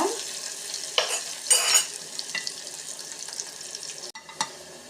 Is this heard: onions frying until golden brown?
yes